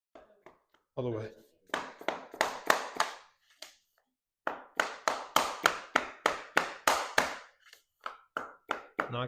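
Floor planks are knocked into place while flooring is laid in a tiny home, a series of sharp taps in quick bursts, close and distinct, with brief pauses between runs.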